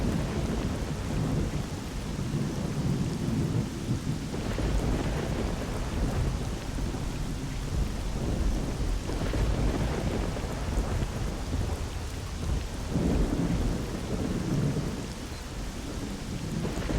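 Heavy steady rain with deep rolling thunder in S.T.A.L.K.E.R.: Shadow of Chernobyl, a continuous loud downpour with low rumbles swelling and fading throughout, no talk.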